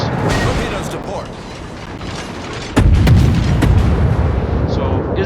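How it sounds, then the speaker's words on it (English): Torpedoes launch from the destroyer Izyaslav in a naval video game, heavy booming thuds over a rumbling background, with a sharp loud burst midway that keeps roaring. "Torpedoes to port."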